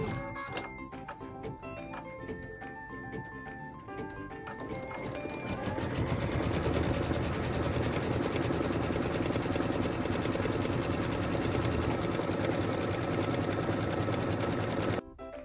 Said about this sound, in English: We're going to start our stitch out by stitching the placement line for our batting.